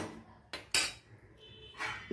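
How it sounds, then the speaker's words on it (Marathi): A metal lid clatters onto a pot of simmering Konkan-style cashew vegetable curry, two sharp clinks with a softer scrape after, close and alone. "झाकण ठेवते आणि छान 5 मिनिटं त्याला छान उकळी येऊ दे"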